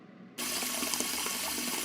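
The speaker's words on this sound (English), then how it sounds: "Why is there water scattering all over the floor?" A cartoon sound effect of water flooding a school: a sudden gush of running water cuts in after a brief quiet moment and keeps pouring steadily, close and even.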